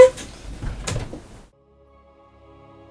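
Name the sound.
creaking door in the video game StarCraft II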